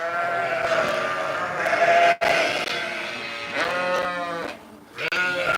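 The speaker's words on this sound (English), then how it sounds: "I've been feeding Biscuit, my pet sheep, some digestives today." A pet sheep bleats in long, wavering, close-up calls that run almost continuously, with a brief break near the middle and a short pause near the end.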